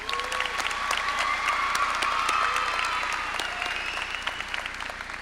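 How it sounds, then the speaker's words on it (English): A crowd at a 2025 high school graduation ceremony gives a valedictorian another round of applause, a full, steady wash of clapping with a few cheers and whistles rising over it, holding loud throughout. "Let's give her one more round of applause."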